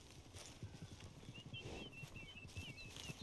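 Horse hooves clip-clop at a steady trotting rhythm in the video game Red Dead Redemption 2, close and clear, with faint birdsong in the background.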